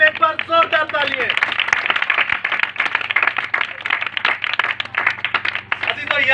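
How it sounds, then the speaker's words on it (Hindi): Loud, brisk clapping from a church congregation, a dense rhythmic patter of many hands close by, with voices mixed in. "यीशु मसीह के लिए एक बार जोरदार तालियां।"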